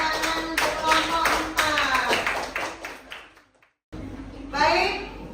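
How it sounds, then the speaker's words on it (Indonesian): Classroom of students clapping for a student group, a rhythmic patterned clap in unison with children's voices mixed in, breaking off briefly into silence before more voices resume. "Kita beri tepuk tangan untuk kelompok"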